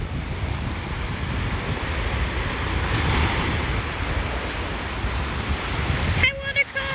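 Ocean surf on a Hawaii beach rolls in as a steady, loud wash of breaking waves with wind buffeting the microphone, followed by a short clatter of handling noise at the end.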